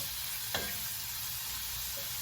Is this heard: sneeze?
no